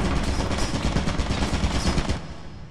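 Automatic turret fire in the horror co-op game Lethal Company: a steady, loud rattle of rapid shots for about two seconds that then cuts off, leaving a quieter tail.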